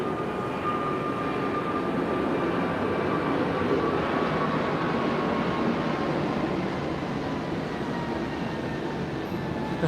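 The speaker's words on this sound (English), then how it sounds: "I haven't heard an airplane sound in 2 weeks" An airplane takes off, its engines a continuous broad roar at moderate distance, holding steady with a faint rising tone.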